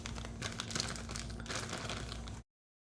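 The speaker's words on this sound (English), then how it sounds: "So I'm gonna open up the second bag I got." Crinkly rustling and crumpling of a bag of flour being handled and opened, close by, continuous for a couple of seconds then stopping.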